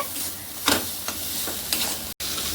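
A spice paste with garlic and green chili is stirred in a hot pan while mutton curry is cooked, giving a steady sizzle with a few scraping strokes of a spoon.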